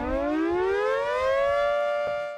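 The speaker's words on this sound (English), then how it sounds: "you need to rely on those 50-year-old sirens" Outdoor civil defense warning siren, decades-old equipment, winding up in a loud, steady rising wail with strong harmonics, heard alone without talk.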